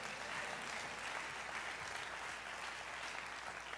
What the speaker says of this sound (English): Clap your hands while you're doing it.